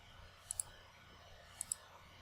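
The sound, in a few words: computer mouse clicking through software settings menus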